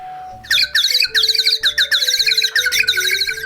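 A bird whistle trills in rapid, warbling chirps that mimic small birds, loud and close, with brief breaks between bursts over a low background tone.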